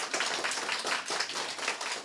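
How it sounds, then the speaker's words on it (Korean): An audience at a social services policy forum applauds, a dense burst of clapping from many people, steady and fairly loud throughout. "준비해주신 정정은 리드님께 다시 한번 큰 박수 부탁드립니다."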